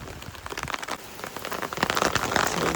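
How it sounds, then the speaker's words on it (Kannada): Rain pours down in Japan on a weekend, pattering densely on the ground and nearby surfaces, a close, continuous patter that swells slightly toward the end. "ಜಪಾನ್ನಲ್ಲಿ ಮಳೆ ಬರುತ್ತೆ."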